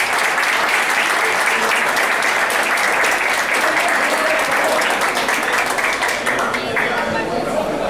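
A crowd at a birthday tribute luncheon breaks into steady, dense applause with cheering, loud and continuous throughout, with chatter faintly mixed underneath.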